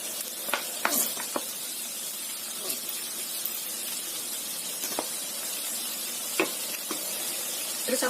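Mustard greens stir-frying in a pan with sweet soy sauce, giving a steady close sizzle with scattered sharp clicks and scrapes of stirring.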